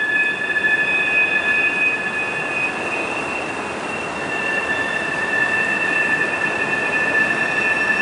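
A train passes close beside a riverside path, a loud, steady rumble with high, sustained wheel squeal running throughout.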